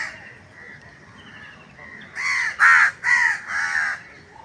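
Crows cawing on a cloudy morning by a lake in Rabindra Sarobar, four loud harsh caws in quick succession close by after a faint stretch of softer calls.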